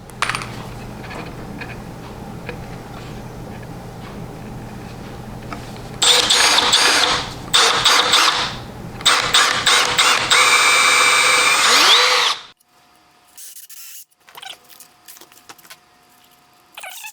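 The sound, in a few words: drilling pilot holes for screws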